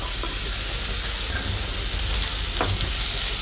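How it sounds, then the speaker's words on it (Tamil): Pumpkin pieces sizzle steadily while being sautéed in a little oil in a pan, with occasional scraping stirs against the metal over the continuous close hiss, and no talk. "இந்த பரங்கிக்காயை போட்டு வதக்கிடலாம்"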